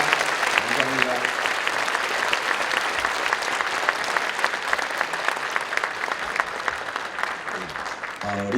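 Steady applause from a congregation fills a church service marking a Korean church's 50th anniversary dedication, dense clapping sustained throughout with faint voices mixed in.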